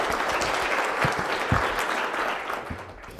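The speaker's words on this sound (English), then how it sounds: "Go ahead and give him a round of applause." An audience at a public presentation on opioids applauds steadily for a few seconds, the clapping fading slightly toward the end.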